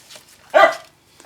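A single close, loud dog bark, one sharp burst indoors in a quiet room, followed by faint low sounds.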